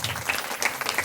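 A short burst of clapping at a devotional darbar gathering welcomes a guest, a brief scattered patter of hands from a small crowd.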